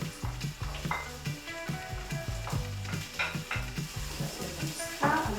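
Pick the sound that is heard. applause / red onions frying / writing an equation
red onions frying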